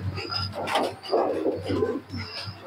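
Female pigeon kept for high-flying tournament training cooing softly in a few low, rounded bursts, close by amid light background noise.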